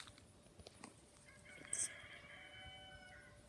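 A chicken gives a few quiet clucks and a short drawn-out call, faint and somewhat distant over low background noise.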